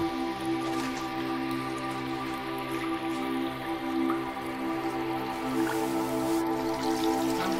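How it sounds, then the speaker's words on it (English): Water goes into a cooking pot holding cow leg and herbal leaf for a stew, giving a steady splashing and dripping patter over a low, even hum from the kitchen. "I'm adding some water"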